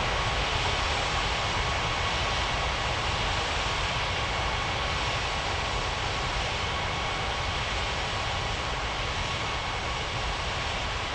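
A Lufthansa airliner taxiing toward the runway at Springbrook Airport in a Roblox game, steady loud broadband jet engine roar holding constant throughout without talk.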